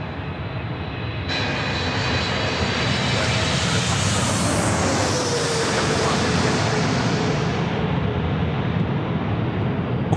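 A Thai Airways jet airliner on final approach to Sydney Airport at night, a loud, sustained roar that swells as it passes overhead and then slowly fades, with faint voices from onlookers.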